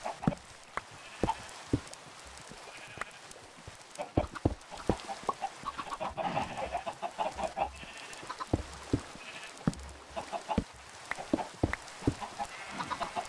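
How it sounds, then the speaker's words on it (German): Chickens clucking in the Minecraft video game, with repeated short, quiet clucks and bleat-like calls scattered irregularly over a faint background. "Die Hühner kommen raus"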